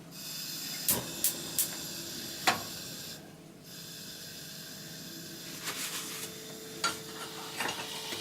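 Margarine melting in a hot pan gives a steady faint sizzle and hiss, with occasional sharp clicks and scrapes of a utensil, close and quiet with no talking.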